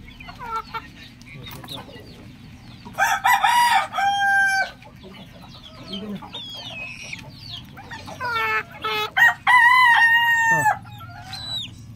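Roosters crow and chickens cluck on a small backyard farm, several loud crows ringing out near the middle and end over a low steady background rumble, with occasional voices nearby.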